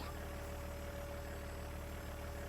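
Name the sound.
farm vehicle engine in video game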